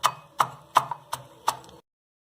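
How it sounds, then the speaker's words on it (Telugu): Soaked, drained green gram (moong) pounded coarsely by hand: five dull, close thuds at an even, unhurried rhythm, each with a short crunchy tail, no voices. "వడగట్టుకున్న పెసర్లని ఈ విధంగా కచ్చపచ్చగా దంచి పెట్టేవాలి."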